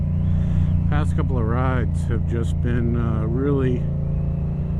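Steady engine drone of a naked upright sport motorcycle under way, heard close and continuous beneath someone talking over it throughout.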